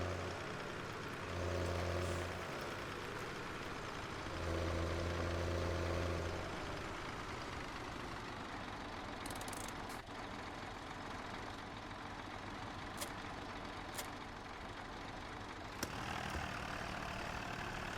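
A farm tractor engine idles in the Farming Simulator 17 video game on hilly terrain. It holds a steady low rumble throughout, with a couple of stronger throbbing swells early on and a few faint clicks later.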